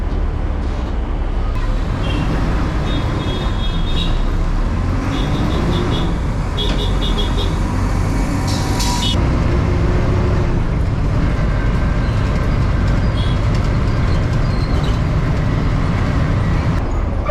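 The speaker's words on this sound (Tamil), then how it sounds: "இப்போது bus நிற்கிறதாங்க yellow pages bus stop" Chennai MTC route 45B city bus pulling up at a stop, a steady loud engine rumble and road noise filling the cabin with brief higher squeals and rattles, no talking.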